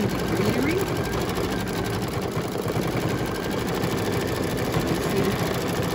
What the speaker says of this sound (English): we are stitching the You Can Do It words